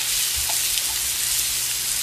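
Diced onion frying in sesame oil in a pan gives a steady, close sizzle with faint crackles and no voices over it.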